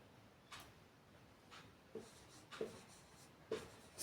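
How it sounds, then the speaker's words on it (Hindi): A pen writes a name by hand on paper, giving faint, quiet scratching strokes in short separate bursts, close and alone in a hushed room. "और एक नाम लिखती हूं"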